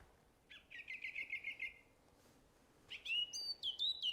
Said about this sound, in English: Oh, we got birds again.